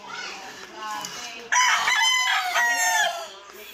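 Several separated roosters (tandang) crow loudly near at hand, their calls overlapping with a clucking hen underneath and no speech.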